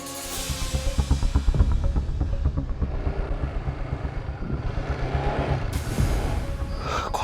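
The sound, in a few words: motorcycle engine passing nearby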